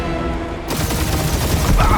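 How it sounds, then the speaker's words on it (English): Rapid bursts of gunfire in a Marvel's Guardians of the Galaxy firefight, dense and loud over a continuous roar of battle and music. "Taking fire! Try not to get shot, Quill."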